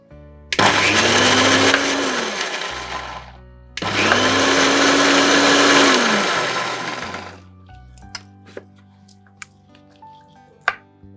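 A kitchen blender grinds peeled garlic cloves into a fine paste in two loud, steady bursts of whirring motor noise separated by a short pause, then stops, leaving a few faint clicks and clatters.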